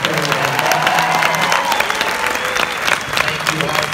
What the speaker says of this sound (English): we give one last round of applause for our cast and crew